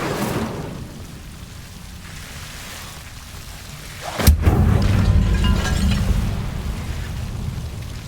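A fire spell cast in Hogwarts Legacy bursts with a sudden sharp crack, then gives way to a loud, sustained roaring whoosh of flames that lingers for several seconds.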